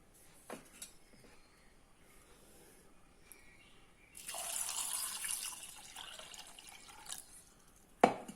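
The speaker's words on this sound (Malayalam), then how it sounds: "നല്ലോണം വെള്ളം ഒഴിക്കണം." Water is poured into a pressure cooker holding peeled jackfruit seeds, a steady splashing rush lasting about four seconds after a few faint clinks. A sharp metallic clatter follows at the end.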